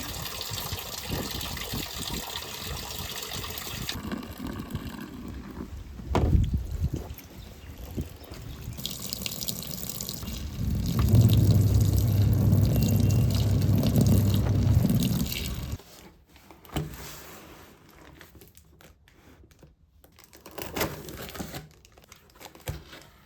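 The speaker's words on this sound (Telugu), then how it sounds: "కంఫర్టర్స్ ఉన్నాయి కదా, అవన్నీ కూడా వాష్ చేద్దామని చెప్పేసి వాషింగ్ మిషన్కి వేస్తున్నా" A washing machine loaded with comforters runs with water gushing and sloshing as it fills, loud and steady, swelling into a heavy churning rush before dropping to a quieter hum.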